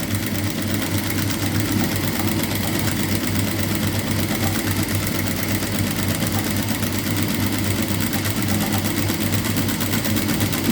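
A sewing machine runs a straight stitch in a steady, continuous mechanical whir with a fast even rhythm, loud and close, with no talking.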